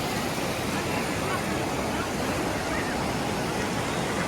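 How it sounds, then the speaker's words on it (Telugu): Water cascades continuously over the Chaparai waterfall in Araku Valley, a steady, loud, broadband rushing roar with no breaks, heard up close for the whole stretch. "సో అది అక్కడ నుంచి వాటర్ అలా పడుతూ ఉంటుంది, అక్కడ నుంచి పడుతూ ఉంటుంది"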